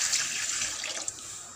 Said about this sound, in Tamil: இதே சட்டியில் இப்போ 700 தண்ணி ஊற்றிக்கலாம்.